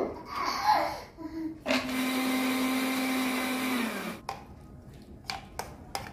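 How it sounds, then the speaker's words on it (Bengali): A blender whirs steadily for a couple of seconds, grinding soaked nuts into paste, then cuts off, leaving soft clicks and handling noises. "তো এখন এটা ব্লেন্ডার করে নিব।"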